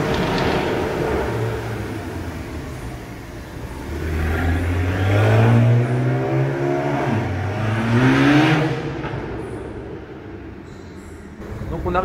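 A BMW E92 335i tuned to about 450 hp drives past inside an underground parking garage, its engine note rising in two loud reverberant swells over a steady echoing rumble.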